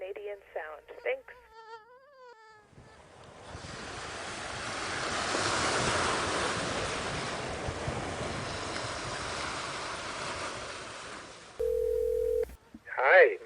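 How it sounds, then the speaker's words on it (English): Waves crash on a Canadian shore as a continuous rushing, broadband surge that rises and ebbs over several seconds, with brief speech before and after. "one of the most Canadian sounds there is the sound of waves crashing"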